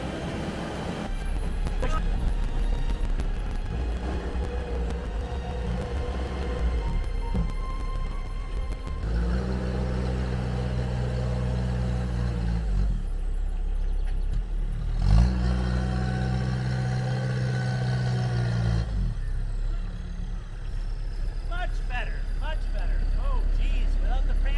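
Sherp amphibious ATV on a test drive after a brake caliper repair, its engine droning and revving with clanking from the running gear, while people talk over it.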